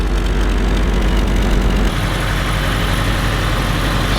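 A refreshed engine in a 1976 BMW 2002 runs steadily at a low, even idle, loud and close, with no voices over the rumble.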